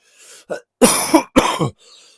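A few harsh coughs close to the microphone, two loud bursts after a softer one, with a throat-clearing rasp trailing off.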